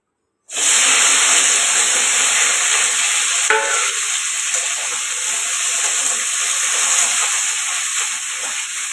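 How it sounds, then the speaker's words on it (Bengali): Okra frying in hot oil in a kadai gives a loud, steady, close sizzling hiss that starts abruptly and holds evenly throughout, with one brief stir partway through. "প্রথমে কড়াতে তেলটা দিয়ে দিয়েছি দিয়ে ঢ্যাঁড়সগুলো একটু ভেজে ভেজে তুলে নেবো"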